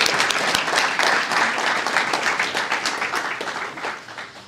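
Applause from an audience at a poetry reading in San Francisco rises as a dense burst of clapping, then gradually thins and fades over a few seconds.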